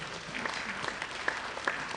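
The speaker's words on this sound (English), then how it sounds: "You guys should give Uyanolo a round of applause" Audience at a youth conference in Ibadan applauding, a steady dense wash of clapping with a few sharper claps standing out, moderately loud and continuous.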